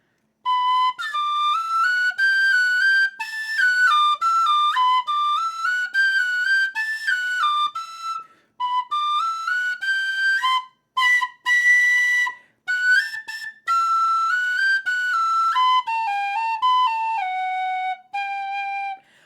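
A tin whistle plays a wandering, improvised take on a song with bright high notes, some wavering and squeaky, with brief pauses between phrases.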